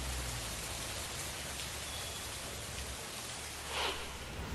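Heavy monsoon rain in Maharashtra pours steadily in a dense, even hiss of drops hitting surfaces, continuous and fairly close, with no voices.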